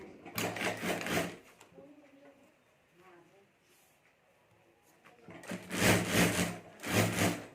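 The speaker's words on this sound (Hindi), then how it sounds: "तो यहाँ ऊपर मैं सिलाई कर देता हूँ।" Sewing machine stitching fabric with plastic lamination for a marriage potli bag, running in two loud bursts at the start and end with a quieter stretch of handling noise between.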